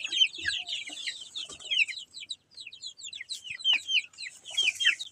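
Backyard chickens being fed fermented leaves cluck and chatter in a busy, overlapping flock, with scattered short calls close by and no one speaking.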